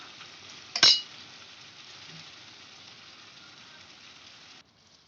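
Chicken sizzles steadily in a hot pan, with a sharp clink of utensil against metal early on as mint paste goes in, then a soft continuous frying hiss that stops near the end.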